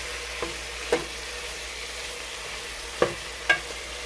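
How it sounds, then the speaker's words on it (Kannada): Chicken pieces and masala frying for chicken dum biryani, with a soft steady sizzle beneath a few sharp scrapes of a spoon stirring the pan, spaced out over several seconds. "ಚೆನ್ನಾಗಿ ಫ್ರೈ ಮಾಡ್ಕೋಬೇಕು ಹೀಗೆ ನಾವು."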